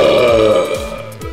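A man lets out one long, loud, close belch that rumbles on and ends in a few short croaks.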